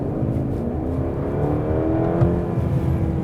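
Mercedes CLE coupe accelerating hard in sport mode, a steady low engine roar that builds slightly in pitch from inside the cabin, loud and continuous with no talking.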